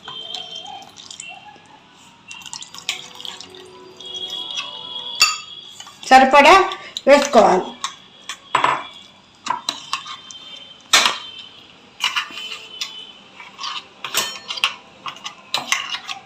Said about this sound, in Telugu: నిమ్మరసం ఇందులో వేసుకొని కలుపుకోవాలి